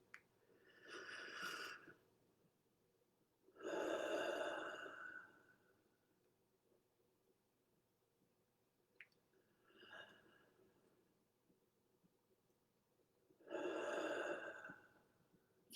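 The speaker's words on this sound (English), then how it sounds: "So let's just take these breaths." Slow, deep breaths taken during a guided breathing exercise, three long inhale-exhale swells and one shorter one, close and soft, with quiet pauses between them and no talking.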